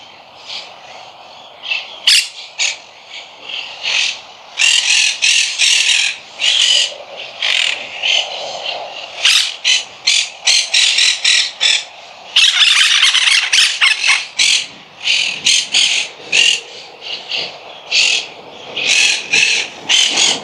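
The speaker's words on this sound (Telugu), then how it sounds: "ఈ ప్రదేశం అంతా కూడా చిలకలతో నిండిపోయింది" A large flock of parrots in Tel Aviv squawks loudly and nearly nonstop, harsh calls overlapping in dense bursts close by with only brief pauses.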